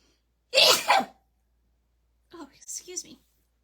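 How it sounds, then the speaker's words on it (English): A single loud, close human sneeze bursts out near the start, followed after a pause by a quieter spoken remark. "I'm going to sneeze."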